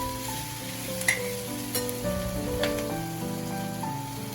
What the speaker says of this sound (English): Finally, for vegetables, I have added our diced capsicum